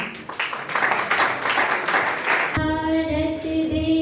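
Audience applause from a crowd at a children's song performance, a dense wash of clapping lasting a few seconds before musical tones take over abruptly.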